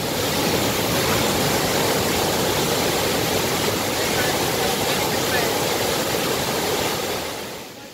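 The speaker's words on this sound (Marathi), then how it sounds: "मोठा विसर्ग धरणातून सध्या सुरू आहे" A heavy discharge of water pours from a dam during continuous monsoon rain in Khed, a dense and loud steady roar that holds unbroken and fades slightly at the very end.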